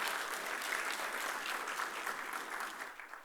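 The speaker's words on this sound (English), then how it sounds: "Let us have a big round of applause for both the speakers" Audience applause for two speakers at a tax seminar, steady dense clapping from a sizable crowd that holds evenly throughout and thins slightly at the end, with no talking over it.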